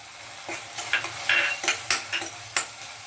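Spices and tomato fry in a pan while being stirred, a sizzle under repeated scraping and clinking strokes from a utensil against the metal pan, close and busy.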